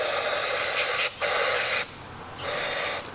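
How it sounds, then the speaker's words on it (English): Brake-spray parts cleaner hisses from an aerosol can onto the bottom end of a scooter engine, in two loud sustained bursts with short gaps, ending in a third, slightly softer spray. "Use something like brake spray parts cleaner here."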